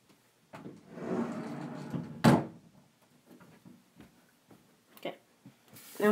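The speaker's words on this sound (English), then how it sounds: "try to close the door because that scares me" A door is pushed shut indoors, giving one sharp, fairly loud bang after some shuffling and handling sounds, then a few faint knocks and clicks in a quiet room.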